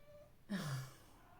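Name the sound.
pet cat meowing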